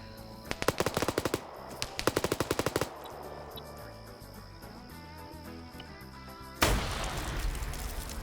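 Two loud, sustained bursts of rapid machine gun fire aimed at a building in a PvP military combat game, followed by quieter background rumble and then a sudden louder wash of noise.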